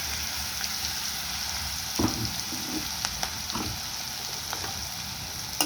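Green chilli paste and cumin seeds sautéed in hot oil, a continuous soft sizzle broken by a few sharp clicks and spatula scrapes, close by and without talk.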